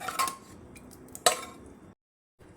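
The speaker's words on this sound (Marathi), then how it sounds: "कढई गॅसवर ठेवले त्यात दोन चमचे तेल घातले" A metal wok clanks and scrapes onto a gas stove with a few sharp metallic knocks, close by, and then goes silent.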